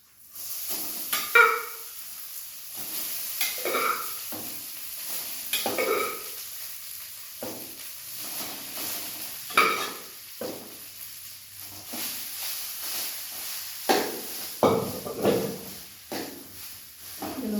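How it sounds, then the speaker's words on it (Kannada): Cooked rice fries in oil for mosaranna (curd rice) while a spoon scrapes and stirs it in the pan. A soft, steady sizzle runs beneath irregular, close stirring scrapes. "ಚೆನ್ನಾಗಿ ಫ್ರೈ ಮಾಡ್ತಾ ಇರಬೇಕು ಎಣ್ಣೆಯಲ್ಲಿ."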